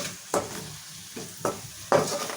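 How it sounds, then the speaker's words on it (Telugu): Tomato pieces cook in oil with ginger-garlic paste, a steady close sizzle broken by three sharp scraping stirs of a spoon against the pan. "సో టమాటో కూడా మంచిగా మగ్గాలి ఆయిల్లోనే"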